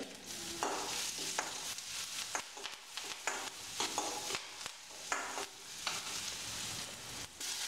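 Garlic and asafoetida frying with curry leaves for mint rasam, a dense continuous sizzle with repeated stirring scrapes in an uneven rhythm, fairly quiet.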